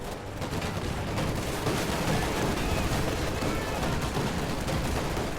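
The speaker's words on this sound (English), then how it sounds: "The shock troops just killed that M20 utilizing only small arms fire, even while suppressed" Dense, continuous small-arms gunfire fills a video game battle, a steady barrage of overlapping shots and bursts at close to mid range with no pause and no talk.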